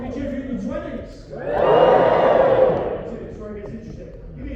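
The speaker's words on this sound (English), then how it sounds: "Give me a cheer if you're in your 20s." A comedy show audience cheers loudly for about a second and a half, swelling into a broad crowd roar before fading back beneath ongoing room murmur and talk.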